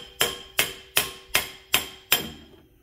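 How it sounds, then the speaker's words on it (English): Hammer striking a steel drift on a car axle, six sharp metallic clanks in an even rhythm, loud and close with short ringing decay, no talk. "I missed the drift with my hammer"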